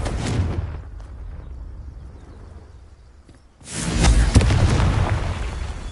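A Confringo blasting spell from the video game Hogwarts Legacy sets off booming explosions, with a loud blast at the start and a louder, longer rumbling burst near the end after a quieter stretch.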